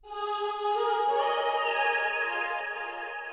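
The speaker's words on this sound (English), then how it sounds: "signature vocal chops that I do in all my tracks" A signature vocal chop from an electronic track sustains as a bright, harmonically rich sung tone that shifts subtly in pitch and fades slightly toward the end, alone without other instruments.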